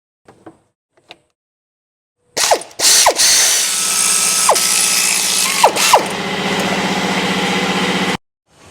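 Ratchet wrench clicking steadily as it undoes cylinder head bolts on a Nissan X-Trail's QR25 engine, a loud close run of rapid pawl clicks broken by a few pauses and repositionings, after a couple of faint knocks.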